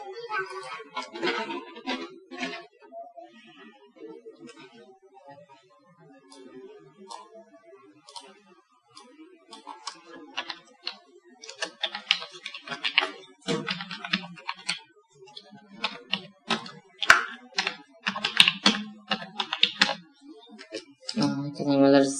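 A computer keyboard is typed in uneven bursts of fast, close clicking and clacking while an email address is entered on a business card being designed in Photoshop, with short pauses between runs of keys.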